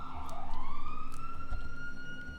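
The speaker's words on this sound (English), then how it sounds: "Why are the sirens going off?" Police sirens wail in the GTA video game, a loud, continuous rising electronic tone that holds steady with no talking.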